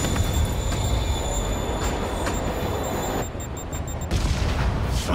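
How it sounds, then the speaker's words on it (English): Moving train in Marvel's Spider-Man, a loud, steady rolling rumble with a constant drone that shifts abruptly partway through, then carries on at full strength. "Train's moving."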